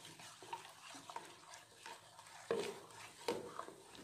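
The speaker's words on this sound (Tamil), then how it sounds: "நெய்யை ஊற்றி ஒரு மிக்ஸ் பண்ணிவிடும்." Ghee being stirred in a small pan while making a sweet egg dish, with soft scraping strokes and light sizzling, including a couple of louder scrapes near the end.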